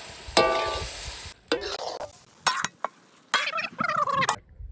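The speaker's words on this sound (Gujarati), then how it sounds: "બધું મિક્સ કરી દઈએ મસાલો બધો મિક્સ કરી દઈએ" A spoon stirs boiled Maggi noodles with masala in a hot pot, giving close, irregular bursts of scraping and sloshing with short pauses between strokes.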